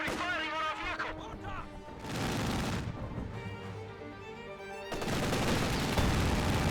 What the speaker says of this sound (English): Infantry firing on our vehicle.